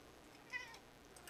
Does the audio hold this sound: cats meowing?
yes